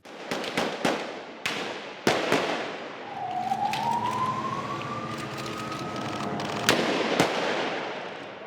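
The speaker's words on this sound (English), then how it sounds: "the sound of gunfire filled the streets of Jenin" Sharp gunshots crack out in an irregular burst in the streets of Jenin during an Israeli military operation, then a long rising siren wails underneath as a few more shots ring out.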